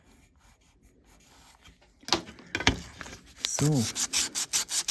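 Hand sanding of stainless steel trim with fine-grit sandpaper before buffing, heard as close, rhythmic back-and-forth rubbing strokes that grow louder midway, with a brief spoken word at the start.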